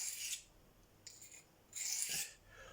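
An LC200 steel knife drawn across hand-held Venev diamond stones, two or three short, hissing rasping strokes separated by brief pauses, close and fairly faint.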